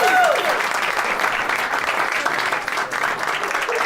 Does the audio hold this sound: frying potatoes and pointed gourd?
no